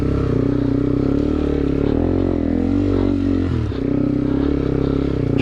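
A 2009 Yamaha TW200 dirt bike engine rumbles loud and close while riding through mud, its pitch rising and falling with throttle changes and dipping briefly near the end.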